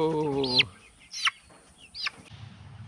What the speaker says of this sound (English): Even if that funny looking chicken is a girl, we'll probably still call it Elvis